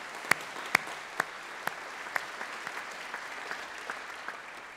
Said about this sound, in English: Again, I'd like to give you a round of applause for getting this far.